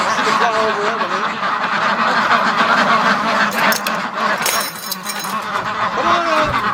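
Muscovy ducks and other fowl call in a pen, with honks and quacks repeating over constant outdoor noise, while a person talks nearby.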